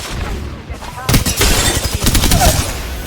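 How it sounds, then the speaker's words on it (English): Apex Legends video game combat with a full squad firing at once, producing dense, loud bursts of rapid automatic gunfire that crackle continuously, with a brief lull before the volley. "Full squad firing."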